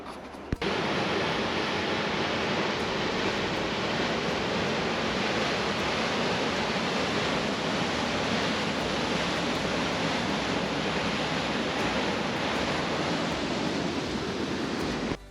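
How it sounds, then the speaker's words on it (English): A waterfall on a travel route through the Yukon toward Alaska, with mineral-stained, tea-colored water, gives off a steady, loud, broadband roar that holds unchanged for the full length, near and alone, with no voices. "So this was the waterfall."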